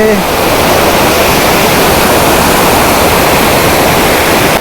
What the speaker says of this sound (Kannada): ನೀರು ಬೀಳ್ತದೆ